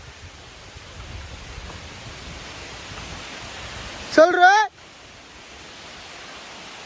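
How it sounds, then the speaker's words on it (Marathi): Heavy rain falls during a trek to Nanemachi waterfall, a dense, steady hiss throughout, with a brief high, wavering tonal sound and a short spoken call midway. "पाऊस बघा फुल दाबून"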